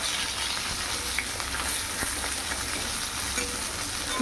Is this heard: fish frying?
yes